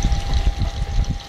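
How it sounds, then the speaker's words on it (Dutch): A pond air pump runs with water flowing through the system, making a steady, close, continuous hum and rush that stays at an even level throughout. "de luchtpomp"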